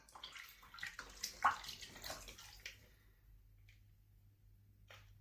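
Water sloshes and splashes as it is stirred in a tub prepared for soaking a snake. Faint swishes over a few seconds fade to a low hum, with a drip or two at the end.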